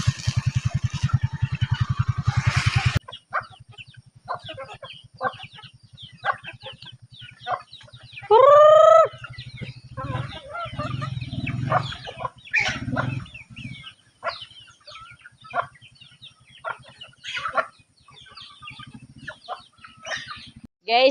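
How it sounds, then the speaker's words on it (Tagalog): Chickens cluck and squawk near a house during feeding, with irregular close-up clucks, a brief loud crow-like call, and a motorcycle-like engine rumble in the first seconds. "pamahog sa manok imadto sa tanto iyang balay ni Pader"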